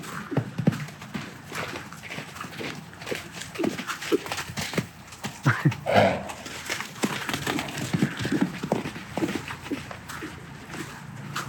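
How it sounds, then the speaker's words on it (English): Several horses shuffle and play nearby, their hooves thudding and clopping in irregular bursts with occasional snorts and movement noise, no voices. "Horses."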